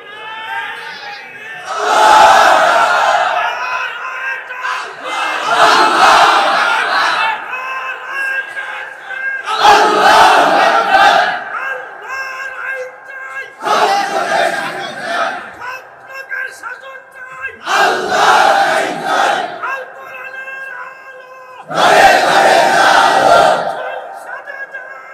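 A crowd chants slogans in Bengali in six loud, roughly evenly spaced unison bursts, each a few seconds of massed shouting separated by quieter gaps.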